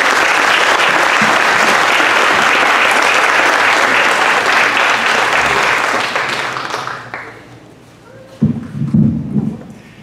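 An audience at a homelessness summit gives loud, sustained applause that rolls on for several seconds, then trails off into scattered claps and some movement.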